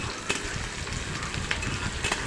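Onion and green chili fry with dried loitta fish in a pan, a steady dense sizzle with faint scrapes of stirring throughout, close and continuous.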